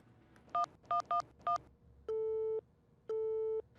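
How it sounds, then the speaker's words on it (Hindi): Four short dial-tone beeps, then two long, evenly spaced busy-signal tones from a phone line, loud and clear with no talking. "लड्डू के भैया का कॉल ही नहीं लग रहा है"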